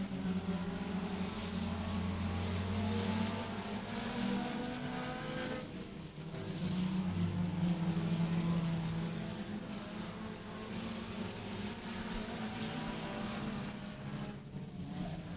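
Four-cylinder stock race cars run nose to tail around a short oval speedway, a steady loud engine roar that swells and fades as cars pass, with no talk over it.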